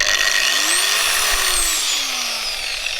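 An angle grinder cuts steadily with a loud, close whine that rises slightly in pitch and then slowly falls as the disc bites, continuous without a break.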